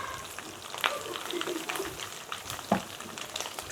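Meat pan-frying in hot oil with a steady sizzle and crackle, plus a few sharp clicks and scrapes as pieces are moved or turned.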